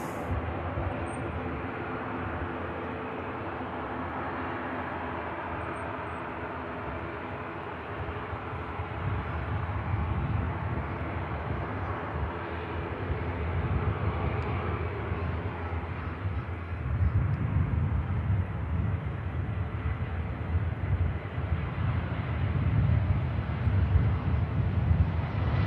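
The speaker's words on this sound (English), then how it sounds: "Another cracking touchdown, really nicely done from the Welling." An airliner touching down at Manchester Airport in blustery weather: a steady, distant roar that swells toward the end, mixed with wind rumble on the microphone.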